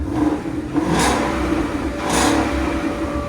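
A 2016 Ford Mustang GT 5.0L V8 with Flowmaster X-Pipe and X-Force valved exhaust, valves closed, revs twice at close range, each rise a rough, muffled roar over a steady idle.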